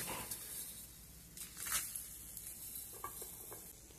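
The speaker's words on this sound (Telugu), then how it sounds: "ధనియాలు, జీలకర్ర బాగా దోరగా వేగాలండి." Coriander seeds and cumin roasting with dry red chillies in a spoonful of oil in a pan, a faint steady sizzle and crackle with occasional soft scrapes of stirring.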